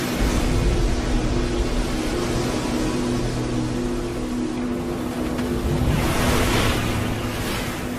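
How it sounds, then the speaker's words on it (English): Stormy ocean surf with strong wind, a steady dense roar of breaking waves and gusting air buffeting the microphone, loud and continuous throughout with swells rising toward the end. "Bigger storms create higher winds, which in turn churn up higher seas."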